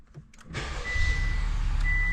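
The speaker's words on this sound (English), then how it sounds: "I'm gonna turn the car on" A 2021 Honda Accord Sport Special Edition engine cranks and catches, then settles into a steady idle rumble with a faint high whine.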